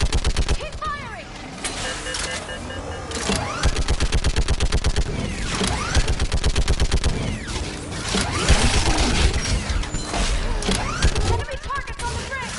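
Sustained gunfire from the video game Mass Effect 3, dense rapid bursts of automatic shots and impacts layered with game effects and soundtrack, loud and continuous throughout.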